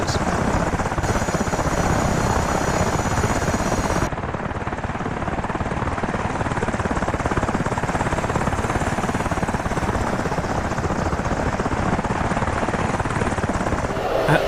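Black Hawk helicopters in the DCS World flight simulator give a loud, steady rotor and turbine roar that holds constant throughout, close and continuous with no talk.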